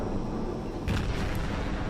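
A deep, muffled boom of naval gun turrets firing from a Tenryu light cruiser in World of Warships rolls out over a constant low rumble of ocean ambience, a single heavy report near the middle of the clip.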